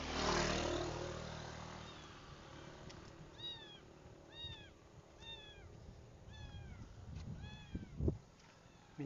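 A cat meows repeatedly, about six rising-falling cries spaced roughly a second apart, faint outdoors with distant traffic rumble and a thud near the end, in a place where a cat has been dumped.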